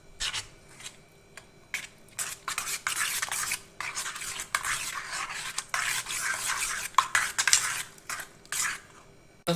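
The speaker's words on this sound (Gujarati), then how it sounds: "મિક્સ કરી દઈશું." Coriander-cumin powder and turmeric are stirred in a cooking pan with a metal spoon, making close, repeated scraping and rubbing strokes in an uneven rhythm, with short pauses between bursts and no talk.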